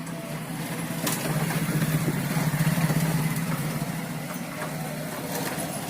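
A new grinder armature spins on 12 volts without motor housing or bearings, giving a steady close hum that swells slightly and holds at full speed, with no speech.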